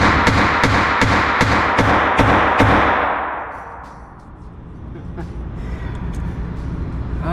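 Ruger LCR .22 LR revolver fired in rapid succession: seven sharp, evenly paced shots over about three seconds, each with a bright ringing crack, then quieter handling taps and room noise.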